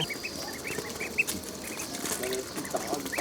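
Ducklings and chicks at a rural market in China give repeated short, high quacks and peeps throughout, close by over a busy bed of background noise.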